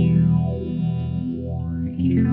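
An electric guitar runs through an EHX modulation pedal switched to a more intense setting, giving a loud, sustained distorted tone with sweeping rising and falling swirls, and no voices.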